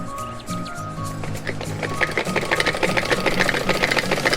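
Sewing machine stitching half-inch pleats runs close and steady, with a quieter start that settles into a fast, even mechanical rattle lasting several seconds, and no voices.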